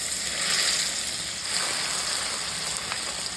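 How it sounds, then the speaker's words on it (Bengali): Taro slices deep-frying in oil, a steady close bubbling sizzle with faint crackles that runs continuously and alone, with no voices. "কচুগুলো সুন্দর করে ভেজে নিয়েছি ডুবো তেলে"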